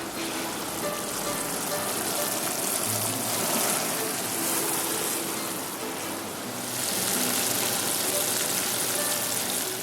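Sugar syrup heating unstirred in a pan while making vegan macarons, a steady hiss and fine sizzling bubbling that holds throughout, fairly close and even, briefly softening midway.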